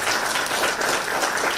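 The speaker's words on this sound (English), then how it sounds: "you're clapping" Crowd at a political talk clapping in a dense, steady burst of applause, close and fairly loud for a short stretch.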